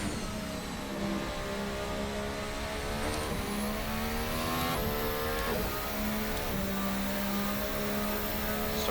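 The RSS Formula Hybrid 2018 race car, in a video game, revs up through the gearbox as its engine pitch climbs repeatedly and drops at each upshift, loud and continuous from onboard.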